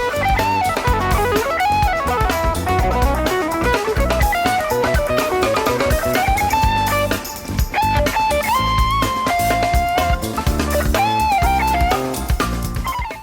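Jazz guitar solo mixing sweep-picked arpeggios with flowing legato lines over a backing band, dense and continuous, with fast runs climbing and falling in steady phrases throughout.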